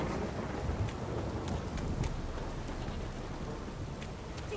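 Heavy downpour in the video game The Witcher 3, a constant dense hiss of rain with low rumbling thunder underneath and scattered crisp drops, steady and enveloping with no talk.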